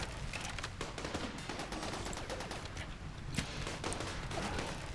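Rapid gunfire and turret shots from a RimWorld battle against mechanoids, a continuous dense crackle of overlapping bursts held steady throughout, loud and busy with no pauses.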